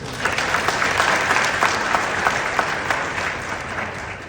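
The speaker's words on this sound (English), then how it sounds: "Let's give them a round of applause." Steady, full applause fills the room at a Namibian launch event for a teachers' mental health program, many hands clapping continuously at moderate loudness, fading slightly toward the end.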